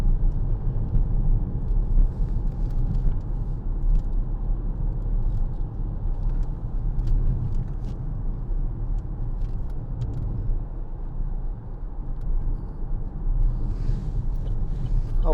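A 2014 Vauxhall Insignia 2.0 CDTi SRi five-door diesel on a test drive, a steady low engine and road rumble from inside the cabin with wind noise, unbroken for the whole stretch.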